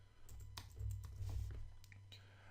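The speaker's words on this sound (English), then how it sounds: "I'm just typing in random numbers here" Numbers being typed on a computer keyboard, a quick, irregular run of soft close clicks and keystrokes with a low hum underneath.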